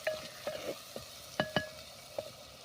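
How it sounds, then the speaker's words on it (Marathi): Turmeric sautéing in hot oil with chillies for a village-style tempered rice dish, a faint sizzle broken by a few sparse scraping stirs and light clinks of a spoon in the pan, quiet and close with no talk. "हळद देखील आपण परतून घेऊया"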